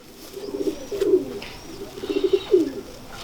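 Sialkoti bateri pigeons coo on a rooftop in two close, soft, throaty rolling phrases separated by a brief pause.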